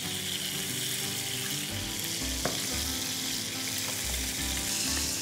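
Butter and oil heat together in a pan with a steady, close sizzle and low fry crackle, a brief sharp tap near the middle, continuing without any voices.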